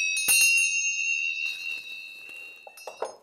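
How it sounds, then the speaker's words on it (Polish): Several bright horse bell tones ring out, clustered jingling strikes that leave a sustained metallic ring fading over a few seconds, with faint shuffling after. "Tutaj z kolei widzimy takie dzwonki dla koni typowe."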